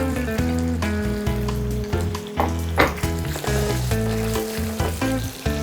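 Prawns added to hot olive oil with garlic give a strong, steady sizzle, broken by stirring knocks and scrapes, with a low musical backing underneath.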